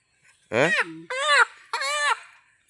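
A native country chicken inside a cage gives three separate drawn-out squawking calls, close and fairly loud, each rising and wavering before cutting off.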